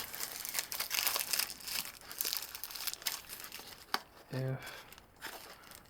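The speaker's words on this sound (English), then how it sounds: "how does this even open? Alright, that's that wrapper." A plastic wrapper is crinkled and torn open on a Pokemon Rebel Clash Build and Battle Box, with close, broken crackling spread through the clip, and a person talks briefly over it.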